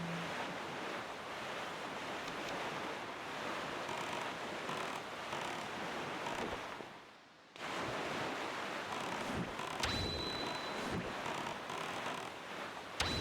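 A fast boat sails over ocean waves in Zelda: Wind Waker, a constant rushing of surf and wind that dips briefly to near silence midway, then returns at full strength. A faint splash stands out near the end.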